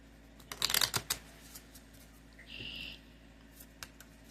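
Tarot cards from the Wild Unknown Archetypes deck are shuffled in a short, close riffling burst of crisp papery flicks, followed by a few soft taps and a brief faint whistle-like tone, quiet with no talk.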